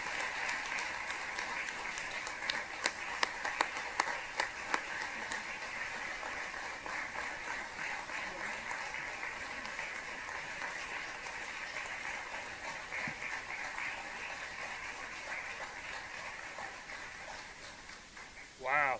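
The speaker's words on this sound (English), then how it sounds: "So please help us in honoring him with your applause, Dr. Bob Griggs." Sustained audience applause at a high school ribbon-cutting ceremony, a long, steady patter of clapping with some sharper individual claps, ending in a brief louder sound at the close.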